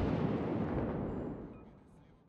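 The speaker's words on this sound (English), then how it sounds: "Shoot him again, and then he'll be broken." A warship's big guns firing in World of Warships, a single deep, heavy boom that rolls on and slowly fades over two seconds.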